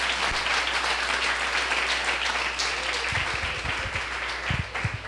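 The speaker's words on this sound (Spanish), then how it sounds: "¿Cuántos aplauden el nombre del Eterno?" A church congregation breaks into brisk applause, a full, even roar of clapping over a low electrical hum, with a few heavier thumps near the end.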